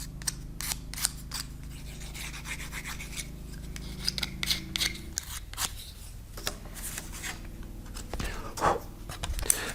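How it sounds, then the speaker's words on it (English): Balsa model kit parts popped out of their sheet and sanded by hand: quiet, close scratchy rubbing strokes and small snaps in an irregular rhythm, with a low hum in the background during the first half. "popping the parts out and sanding them a little bit"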